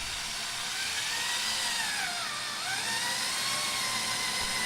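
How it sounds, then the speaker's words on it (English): A power drill with a 1/4 inch bit and a rubber band depth marker bores holes into a wooden dance pad, a steady high whine that dips and recovers midway as the bit bites in. "I'm using, I believe this is a 1/4 inch drill bit for this."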